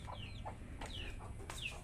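A chicken that has wandered into a home kitchen gives three quick, faint clucks, each a short rising-falling chirp about half a second apart, over a low steady background hum.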